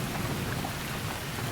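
Heavy rain pours down at night around a mountain cabin, a dense and steady hiss with a low rumble and no voices.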